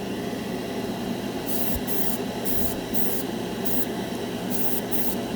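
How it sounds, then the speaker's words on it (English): Splash Paints Metalizer lacquer sprayed from a spray gun onto a white spoon, a steady close hiss of air and paint with repeated short on-off bursts layered over a constant compressor hum, no talking. "It sprays good, like any lacquer does."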